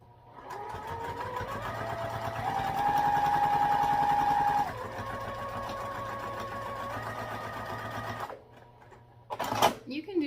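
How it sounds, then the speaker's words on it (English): A sewing machine stitches fabric pieces for a backpack at a quarter-inch seam allowance, running with a steady, sustained motor whir that shifts pitch a few times, then pauses briefly before a short burst near the end. "So I'm just going to sew these together at a 1/4 inch seam allowance."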